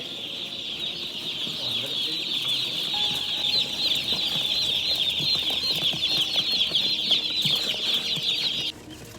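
Young meat chickens keep up a dense, high-pitched chorus of peeping and clucking, steady and close, with faint background movement. The chorus cuts off abruptly just before the end.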